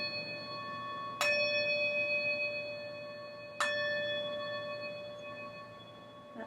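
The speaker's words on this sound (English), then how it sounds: "Then sometimes I get called to use Tibetan bells like this one." A Tibetan bell used in sound healing is struck twice, each strike a bright ringing tone that hangs and slowly decays over a quiet background, with no talking.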